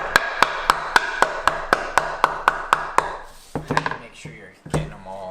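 Hammering on wood while building a burnt wood American flag in a woodshop: a steady series of about eleven sharp, evenly spaced hammer blows, then a few irregular knocks and clatters near the end.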